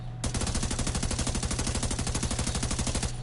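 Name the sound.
P416 rifle gunfire in The Division 2 video game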